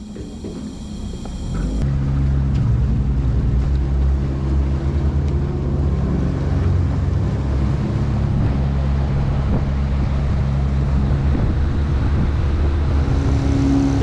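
A police motorboat on open water accelerates to full throttle, its engine rising abruptly from quiet into a loud, sustained roar mixed with wind and water rush, with no speech over it.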